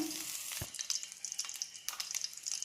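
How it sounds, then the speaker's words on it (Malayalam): Mustard seeds crackle and splutter in a pan of hot coconut oil, with a sharp burst of popping early on and then a steady close sizzle. "കടുക് പൊട്ടിക്കാം."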